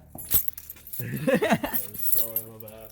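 Keys jangle in a garage while a wideband gauge is being installed on a car, a bright metallic rattle that comes and goes over about three seconds, with a person's voice and some handling noise mixed in.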